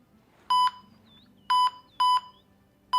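A metal detector in the video game Simon the Sorcerer 5 gives short, sharp electronic beeps, four of them at uneven intervals, clear and alone over a quiet background hum.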